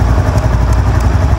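A Honda Pop 110 motorcycle engine runs close by with a steady, loud low rumble and a light mechanical clatter throughout.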